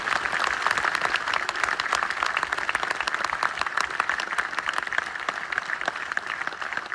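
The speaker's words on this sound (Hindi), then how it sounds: "सब जोरदार तालियां बजाएं" Loud, dense applause from a large crowd, sustained and even throughout with no pauses.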